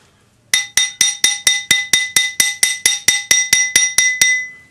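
A domed metal ring is struck with a hammer about fifteen times in a steady, even rhythm, each blow a bright, ringing metallic clink that decays quickly, close and loud with no talk.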